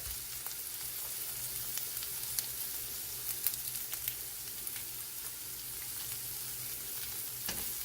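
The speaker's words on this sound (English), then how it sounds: "I added some olive oil to the pan to saute these" Garlic sautéing in olive oil in a pan, a steady, soft sizzling hiss that runs continuously with scattered small pops and crackles and no voices.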